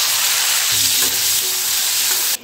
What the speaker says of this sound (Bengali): সেই উচ্ছেগুলো ভেজে নেব।